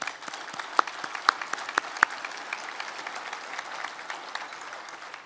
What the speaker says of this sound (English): give a round of applause for Fred